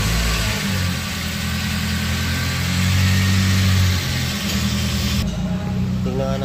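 A Toyota Avanza engine cranks and catches, then settles into a loud, steady idle with a brief rise in revs, heard close up after throttle body cleaning, with a voice talking briefly.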